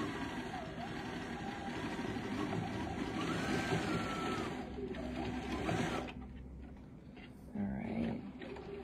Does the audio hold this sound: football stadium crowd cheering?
no